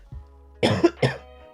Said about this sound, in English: I still have a bit of a cough, and it's probably gonna come out now.